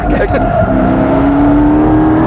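A Porsche sports car engine roars loudly while driving, with a rising, sustained howl that climbs in pitch as it accelerates, close and continuous.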